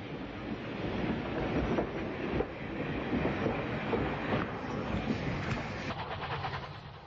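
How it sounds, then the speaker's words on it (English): Battle of Britain Pacific steam locomotive 34089, 602 Squadron, heading the Golden Arrow near Folkestone Junction, pulling away with its train; a steady loud rumble and rolling clatter of wheels and carriages throughout, with no talk. "With a characteristic slip, the Pacific gets her train underway"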